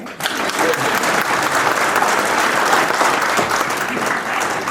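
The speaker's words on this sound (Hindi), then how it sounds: "ताली नहीं बजाएंगे?" Sustained applause from a large audience at a talk about Swami Vivekananda's message, a dense, steady wash of clapping that holds at an even level throughout.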